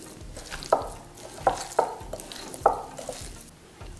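Meat seasoned with paprika, garlic, black pepper and salt being mixed in a bowl, with four or five distinct scraping, clacking strokes at an unhurried rhythm, close and fairly quiet, no voices.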